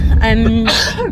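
A single sharp sneeze bursts out close up, followed right after by a person speaking.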